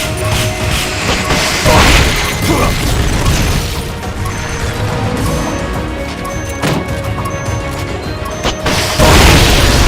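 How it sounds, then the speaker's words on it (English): Rocket launcher fire from Metal Gear Solid: Peace Walker gameplay on PS3: loud booms and crashing impacts over dense mechanical rumble, with a few sharp bursts across the stretch. "Self-defense system online. Firing rocket launcher."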